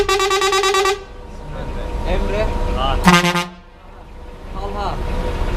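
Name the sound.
ship horn sounding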